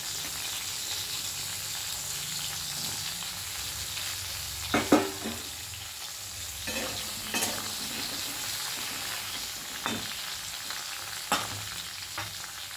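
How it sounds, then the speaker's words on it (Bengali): Pointed gourd (potol) frying in oil, a continuous sizzle with stirring clatters and a few sharper scrapes, fairly quiet and without speech. "পটলগুলো একই রকমভাবে লাল লাল করে আমি ভেজে নিচ্ছি"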